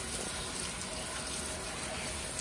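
Lettuce being washed under a running kitchen tap, a steady, loud rush of water that continues unbroken throughout with no other sounds on top.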